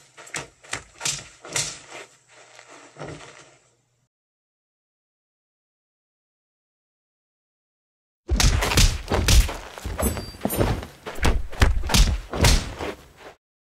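Rough fight-scene sound effects: a quick series of sharp punches and heavy thuds, then silence, then a denser burst of impacts, hits and scuffles, all close and loud with no speech.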